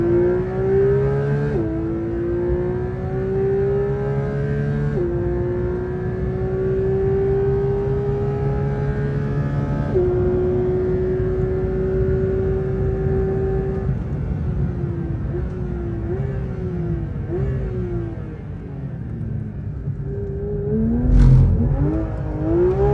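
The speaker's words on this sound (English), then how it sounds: "first time driving a 992 GT3RS. And then already on the racetrack." A Porsche 992 GT3 RS drives hard on a racetrack, its engine loud and close from inside, winding up through high revs with quick upshifts, then dropping and blipping down through the gears.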